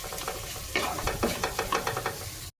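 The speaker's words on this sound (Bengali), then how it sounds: "পেঁয়াজ আদা রসুন আর কাঁচা লঙ্কাটাকে এবার আমি তেলের মধ্যে একটু ভালোভাবে ফ্রাই করব" Onion, ginger, garlic and green chilli fry in hot oil while a spoon stirs them, giving a close, steady sizzle broken by repeated scraping strokes and soft clacks.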